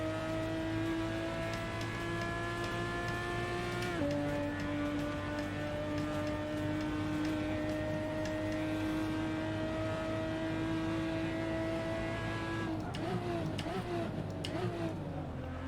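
Porsche Cayman GT4 engine in the racing game Assetto Corsa, a steady high-revving drone that shifts pitch as gears change, held continuously with a rougher burst of revs near the end, with faint talk in the background.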